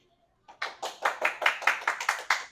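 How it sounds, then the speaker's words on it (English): A small group claps for a guest at the start of an industry interview; after a brief silence, about a dozen distinct, evenly spaced claps follow, close and clear. "Can you give applause to Sandy?"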